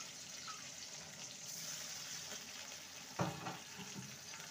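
A little water poured into a pan of sizzling spice masala with ginger paste and melted tomato, cooking for a parwal and moong dal dish; a steady soft hiss runs throughout, then a short louder splash and sputter near the end.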